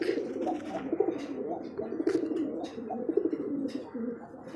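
A black male pigeon with a pitcher neck coos in low, repeated rolling calls, close and fairly soft, with faint chirps from other birds behind.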